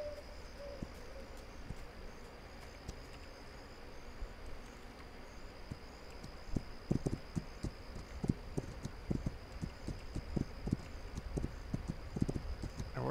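Horse hooves clip-clop in the video game This Land Is My Land. A steady run of hoofbeats starts about halfway through and plays over a constant hum of insects and crickets.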